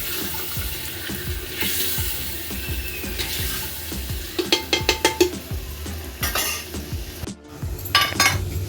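A spoon stirs onions with garam masala in a cooking pot for handi biryani, with repeated scraping strokes and metallic clanks against the pot. The clatter grows busier toward the end over a soft, continuous background noise.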